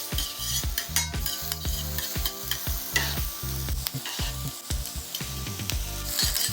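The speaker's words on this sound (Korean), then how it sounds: "양파가 투명해질 때까지 볶아주고요." Onions stir-fried over medium heat in a pan for a cream sauce give a loud, close sizzle broken by constant rhythmic scraping strokes of a utensil, with no talk.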